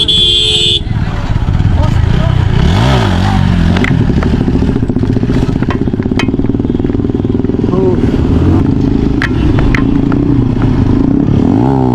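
A motorcycle revs loudly and continuously at a freestyle bike stunt meet in Khulna, its engine roaring up and down close by as the crowd talks and shouts throughout.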